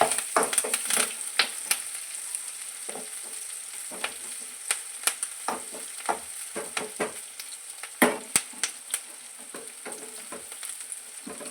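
Ginger, green chillies and curry leaves frying in oil for a chicken curry: a continuous sizzle broken by frequent sharp crackles and pops, close and clear, with no talking.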